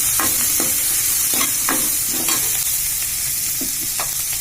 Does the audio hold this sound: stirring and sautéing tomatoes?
yes